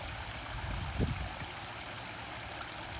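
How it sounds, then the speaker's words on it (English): Steady broadband rush of a koi pond waterfall tumbling continuously into the pool, close and even throughout, with a brief low splash or thump near the start. "Nice waterfall, huh?"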